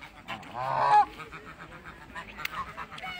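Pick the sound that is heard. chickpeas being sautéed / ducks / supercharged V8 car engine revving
ducks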